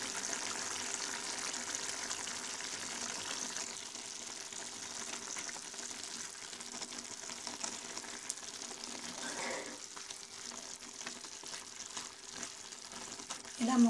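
Chicken with washed sorrel leaves cooks in a pan with a quiet, continuous low sizzle and faint bubbling, with occasional soft stirring sounds and a brief thump near the end.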